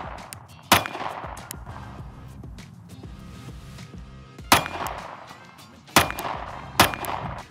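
A Sig Sauer P365 Macro pistol fitted with an optic fires four loud, sharp shots at irregular intervals, a single crack early on and then three more closer together near the end, with no talking.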